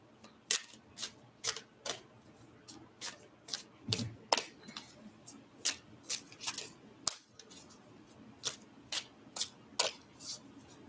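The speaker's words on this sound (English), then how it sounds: "Let me shuffle these." A series of quick, crisp riffling snaps as tarot cards are shuffled, repeating at a steady rhythm, close up in a quiet room.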